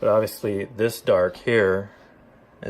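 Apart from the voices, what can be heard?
No distinct noise like a dog, phone or traffic.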